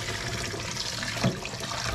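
Beef ribs are rinsed under running water, a steady close splashing and gurgling with a brief louder slosh partway through.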